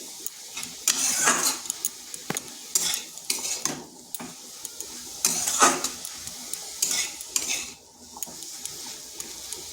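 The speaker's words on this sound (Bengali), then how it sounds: "শাকটা বেশ কিছুক্ষণ নাড়াচাড়া করতে হবে মানে ভাজা ভাজা করে নিতে হবে" Radish greens stirred and fried in a pan for a vegetarian dish, with steady sizzling broken by repeated scraping strokes of a utensil against the pan, close and fairly loud with no talking.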